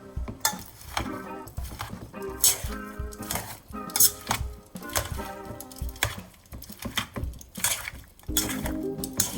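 Greek salad with feta being tossed in a bowl, a busy nearby run of clinking, scraping and clattering from utensils against the dish with no speech.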